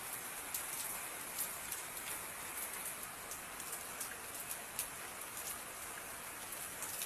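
Steady rain falls continuously, a soft hiss of countless drops with occasional louder spatters, no voices present.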